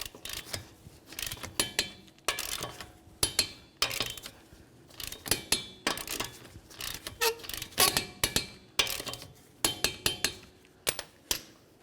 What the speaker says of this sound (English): Now with the wheel, so it's just barely touching the ground and it can't spin, let's go ahead and torque them.